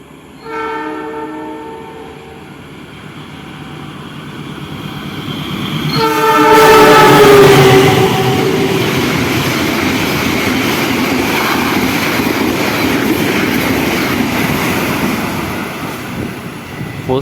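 Malabar express train passing straight through Prambanan station at night at about 120 km/h: a sustained horn blast, then a loud rushing roar of carriages rumbling past close by, holding steady to the end.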